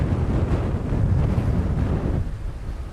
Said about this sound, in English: Wow, it is extremely windy indeed.